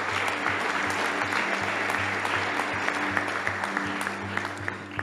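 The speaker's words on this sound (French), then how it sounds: "Et on les applaudit bien fort tous les 4." An audience at a housing awards ceremony applauds loudly and steadily for several seconds, dense clapping with a low hum underneath and no talking.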